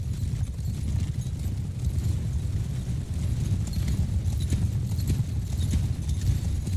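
Cavalry horses trot in a Mount & Blade 2: Bannerlord battle, a dense, continuous drumming of many hooves close by and loud, with a faint whinny somewhere in the mass and no voices.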